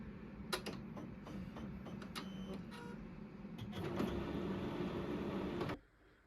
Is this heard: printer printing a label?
yes